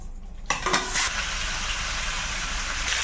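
Chopped onion dropped into hot oil in a kadai, bursting into a loud sizzle after a brief quiet start, then a steady close frying hiss with a few stirring scrapes.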